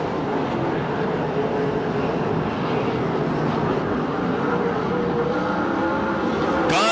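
USAC/CRA sprint cars race at Perris Auto Speedway, a loud, sustained engine roar that swells slightly as cars run down the front straightaway.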